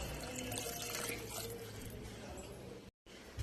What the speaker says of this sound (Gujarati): હવે આપણે આ 3 ગણું પાણી એડ કરી દઈશું